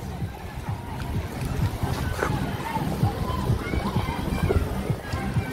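Whirlpool in a campsite pool complex, continuous bubbling and churning water at moderate level, with a voice speaking over it.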